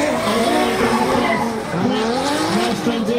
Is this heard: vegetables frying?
no